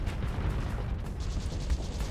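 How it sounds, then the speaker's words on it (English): Laser weapons firing in modded Starsector space combat, a steady run of deep, booming pulses and thumps with hissing bursts layered over a low rumble. "these sound like sound effects off of the Mac cannon from Halo Reach"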